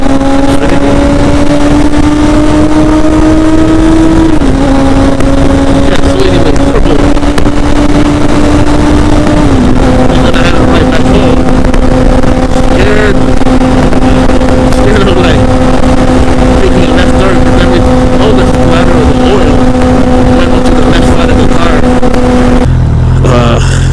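A motorcycle rides along a road, its engine droning steadily close by with a pitch that steps up between gear changes, accompanied by wind and road noise.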